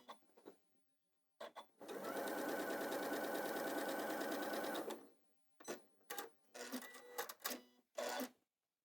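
A sewing machine stitches a small strip of grey fabric onto the edge of a dress piece, running steadily for about three seconds. Shorter bursts of rattling stitching come before and after it, close and fairly loud.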